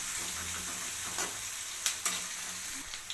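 Onion, garlic and curry leaves sizzle steadily in a hot pan with a constant frying hiss, broken by a few sharp spatula scrapes and stirs near the end.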